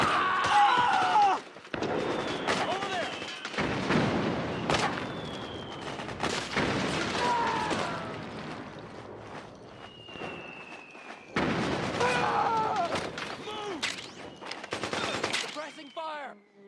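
Gunfire in Metal Gear Solid 4 breaks out in sharp shots and rapid bursts among footsteps and battle noise, loud and close, while voices talk through the fighting.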